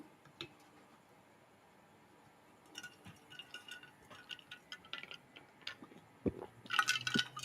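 Pouring a glass of water in a home shed during a live stream: quiet trickling and dripping that starts soft, then rises into a louder burst of filling splashes near the end.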